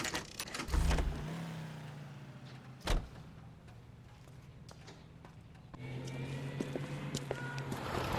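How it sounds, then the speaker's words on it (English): A car in the video game L.A. Noire pulls out of a driveway, a low engine drone running steadily for several seconds and swelling near the end, with a thud and a sharp knock along the way. "That's the car, Cole. Just pulling out of the drive."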